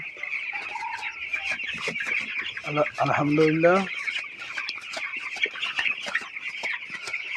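Broiler chickens on a poultry farm clucking and chirping throughout, with one louder close burst of clucks in the middle over a constant high flock chatter, and someone speaking briefly.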